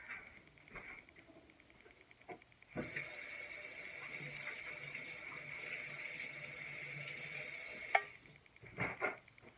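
Tap water running steadily during handwashing in a kitchen, a hissing stream starting abruptly and flowing for several seconds, then cutting off, followed by faint splashes and movement.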